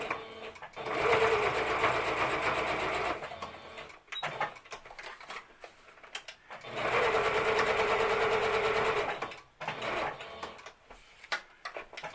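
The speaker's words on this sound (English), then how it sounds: "I'm just going to stitch that." A sewing machine stitching fabric for decorative stitching, running in two sustained, fast whirring bursts of several seconds each, separated by a pause with light handling clicks, close and steady.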